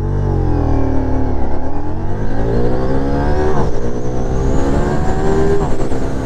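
Ducati Diavel V4 motorcycle accelerating hard, its engine note climbing steadily through the gears with rising harmonic whine, close and loud throughout with no talking.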